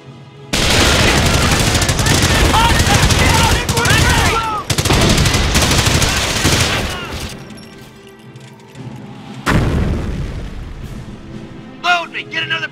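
Heavy gunfire and explosive crashes roar through a World War II battle in the strategy game Company of Heroes, dense and loud for most of the stretch before thinning out, with shouted voices of soldiers over the fighting.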